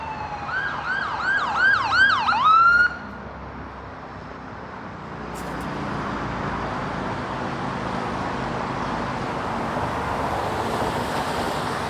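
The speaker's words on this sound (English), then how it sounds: "Oh, here comes an ambulance." A loud wailing ambulance siren sweeps up and down for a few seconds on King Street West in Toronto, then cuts off, leaving steady traffic noise and a distant hum.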